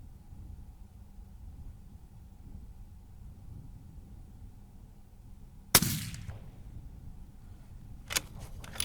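One loud, close rifle shot cracks out at an outdoor range while a scope is being zeroed, followed a few seconds later by a softer cluster of clicks and a second sharp report over steady wind noise.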